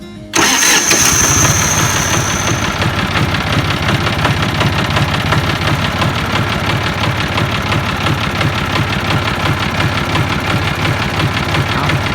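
A tractor engine cranks and fires up, then settles into a loud, steady, rumbling diesel idle that runs on close by without a break.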